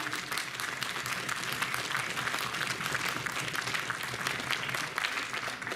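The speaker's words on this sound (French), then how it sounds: "on peut applaudir sa maman aussi" A convention crowd at a BronyDays 2015 cosplay show applauds a cosplayer's mother, a dense, even wash of many hands clapping at a steady level for several seconds without pause.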